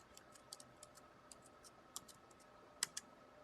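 Light, sparse keystrokes on a computer keyboard as a web address is entered, with faint close clicks and a couple of slightly firmer taps near the end.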